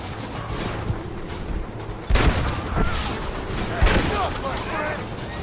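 Gunfire from the Red Dead Redemption video game: a steady din of shots, with louder blasts cutting in around the middle and again toward the end, amid dense battle noise.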